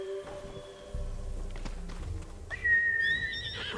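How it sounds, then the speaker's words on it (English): A horse in the video game Ghost of Tsushima gives a short whinny near the end, rising over soft hoof clops, low rumble and ambient game sounds. "Horse!"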